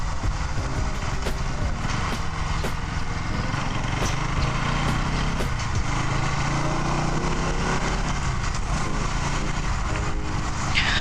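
A Bajaj Pulsar NS 200 BS6 motorcycle engine hums steadily while riding, a continuous moderate drone mixed with wind rush and no clear revving peaks.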